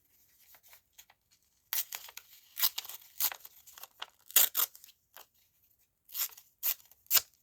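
Paper tearing by hand in short bursts, several rips and crinkles spaced irregularly, close and moderately loud with no talking, as pieces are torn smaller for a collage board.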